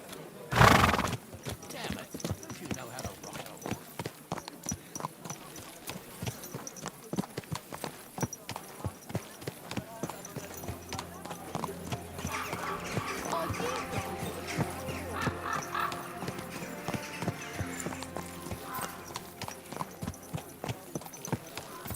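A horse snorts loudly, then hooves clip-clop steadily on a hard surface, close by, with talk and street bustle around it, in the game Kingdom Come: Deliverance II.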